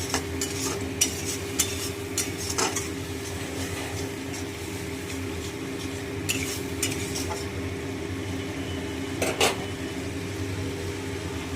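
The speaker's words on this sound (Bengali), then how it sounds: "আর একটু জল দিয়ে দিলাম, দিয়ে ভালো করে মশলাটাকে কষাবো।" Masala stir-fried with a little added water in a pan for a catla fish curry: a soft, continuous sizzle under intermittent spoon scrapes and clinks against the pan, moderately close and fairly quiet.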